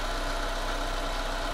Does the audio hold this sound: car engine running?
yes